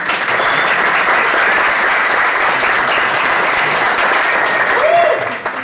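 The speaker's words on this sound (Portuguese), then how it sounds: "Então, por favor, uma salva de palmas para os pais." A presentation audience at a school launch event gives the parents a round of applause, steady dense clapping that sustains for several seconds before tapering off at the end.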